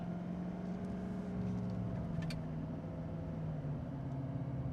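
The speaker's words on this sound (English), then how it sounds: "Gonna get on the gas here just a little bit." A 2009 GMC Sierra 3500HD pickup truck's engine gives a low, steady rumbling drone, faint and even, with no clear rise in pitch.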